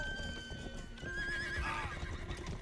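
A horse whinnies with rising, wavering neighs from a horse-drawn wagon in the medieval game Rustler, heard over a steady low rumble of game ambience and hoofbeats.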